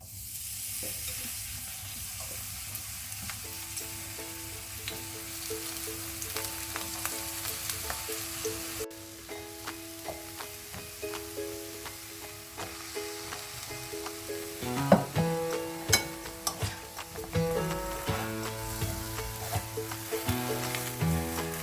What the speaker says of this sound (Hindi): सबसे पहले हम बैंगन और आलू को जो है वो शैलो फ्राई करेंगे